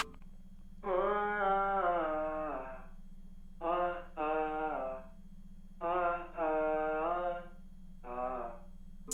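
Sung and hummed vocal phrases processed with autotune, compression and a very short small-room reverb. Four sustained, pitched phrases are separated by brief pauses over a steady low hum.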